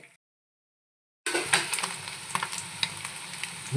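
Gandi fish 65 sizzles and is stirred in a pan after a second of silence, a steady close frying hiss broken by scraping stir sounds, with no talk.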